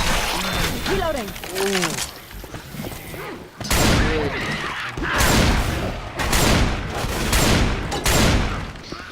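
Gunfire in Left 4 Dead 2 during the Hard Rain campaign: repeated sharp shot bursts and thumps through the second half, mixed with game effects and a talking voice earlier.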